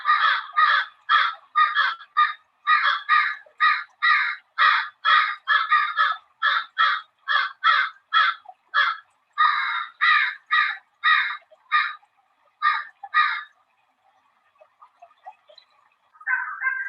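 Crows caw over and over at a hawk bathing in a stream. The harsh calls come in a steady, rapid series for about fourteen seconds and are loud and close. Then they thin out to a few fainter calls.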